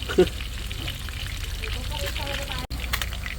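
Oil sizzles and crackles steadily as freshly caught fish fries at night, with a soft clatter and faint voices in the background.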